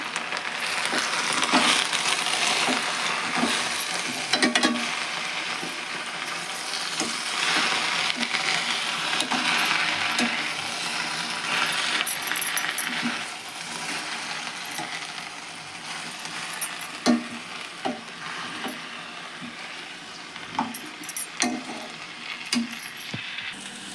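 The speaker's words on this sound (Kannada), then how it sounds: "ಇದು ಎಣ್ಣೆ ಒಳಗೆ ಎಲ್ಲ ಫ್ರೈ ಆಗಲಿರೋದು" Amaranth greens frying in oil in a pan: a continuous hissing sizzle under repeated metallic clinks and scrapes as the spatula turns them, fairly close and loud throughout.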